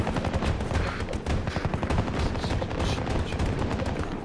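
Dense automatic gunfire in the video game Battlefield 2042, loud continuous bursts of rapid shots from several weapons that overlap with hardly a pause.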